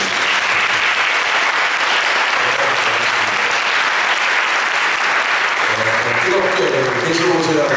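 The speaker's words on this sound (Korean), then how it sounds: "우리 여디디아가 드릴 수 있는 가장 뜨거운 박수로 환영하겠습니다." A congregation at a young adults' church worship service applauds warmly to welcome a guest music professor, with loud continuous clapping throughout and voices faintly audible underneath.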